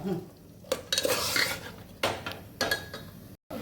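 Pigeon peas for Nagpur-style masala rice are stirred in a pan, with a spoon scraping and clinking against the metal in several bursts over a faint sizzle, close and clear.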